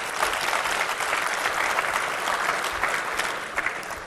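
Sustained audience applause at a waste management world congress opening ceremony, steady dense clapping from a large crowd at moderate volume throughout.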